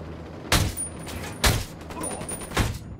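Gunfire in a Ghost Recon Wildlands firefight comes as three heavy, booming shots spaced about a second apart over a noisy background.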